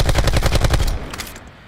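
An assault rifle in Black Ops 4 fires a rapid, loud burst of evenly spaced shots, then stops and the sound trails off briefly.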